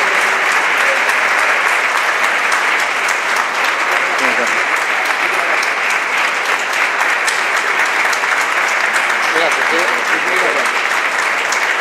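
A large theatre audience at a regional independent theatre festival applauds loudly and continuously, a thick wash of clapping that holds steady throughout, with voices faintly mixed in.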